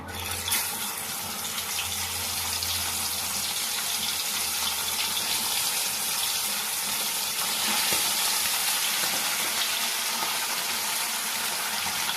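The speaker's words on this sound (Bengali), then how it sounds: "এখন তোমরা দেখো, মাছগুলোকে ছেড়ে দিচ্ছি।" Pomfret fish frying in hot oil: a loud, dense, continuous sizzle with crackling texture, close and steady, with no one talking.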